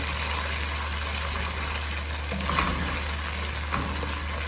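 Tomato pulao being stirred in a pan, with a steady soft sizzle of frying and a few scraping strokes of the spoon partway through, close and continuous, no talking.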